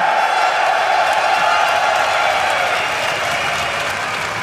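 A packed esports arena crowd of about 11,000 at a European League of Legends match applauds and cheers, a loud dense wash of clapping and shouts sustained throughout and easing slightly at the end.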